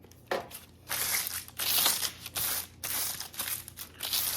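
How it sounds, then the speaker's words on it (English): Sheet of parchment paper crumpled by hand in a kitchen, giving repeated close, crisp crinkling bursts with brief pauses between squeezes. "My little parchment paper trick. Crumple it up and then it doesn't roll up on you."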